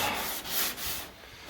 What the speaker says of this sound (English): Just keep sanding.